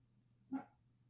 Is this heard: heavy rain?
no